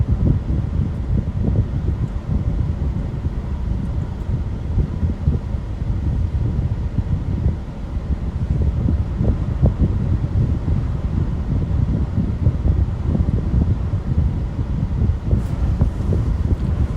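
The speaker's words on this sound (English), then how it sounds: "Hear the wind quite a bit here." Strong storm wind roars steadily against the microphone during a tornado and hail storm chase in Illinois/Indiana, a loud, continuous, gusting rumble with no voices.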